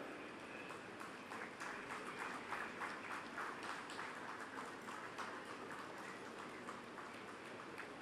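Faint, distant applause at the IIM Kozhikode 26th convocation ceremony, a hall full of people clapping steadily with individual claps flickering through a sustained, even wash that never pauses.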